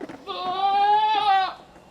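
A goat gives one long, wavering bleat, close and clear, with soft breathy sounds before and after.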